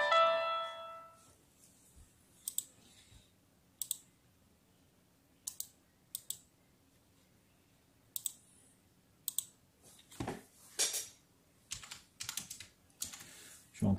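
Typing on a keyboard in short, irregular bursts of clicks and taps, close and fairly quiet against a near-silent background, with a brief chime at the start; no talking.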